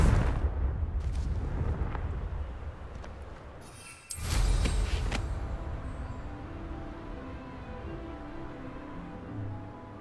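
Confringo spell explosions in Hogwarts Legacy: a deep rumbling blast early, then a sharp, bright burst around the middle that decays into a fading roar, with smaller crackles after.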